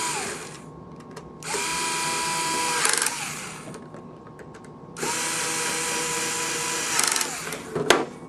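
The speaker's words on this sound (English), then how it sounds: "Tighten up the two back screws." A power driver tightens the two back screws on the cover of an Alaris 8100 infusion pump. Two close, loud whirring bursts, each a few seconds long, are separated by quiet handling and end in a brief clatter.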